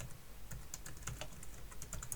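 Fingers tap out a command on a computer keyboard in quick, uneven bursts of light clicks, close and fairly quiet, with no speech.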